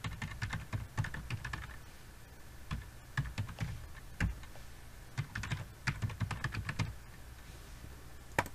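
Keys clatter on a computer keyboard as a username is typed in quick irregular bursts, close and clear, with short pauses between clusters of keystrokes.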